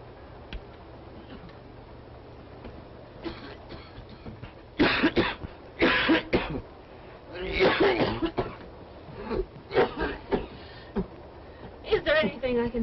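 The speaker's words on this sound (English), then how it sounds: "Can you hear that poor man coughing?" A man coughs in several harsh bursts, some fairly loud and close, with quieter throat noises and faint background sounds between them.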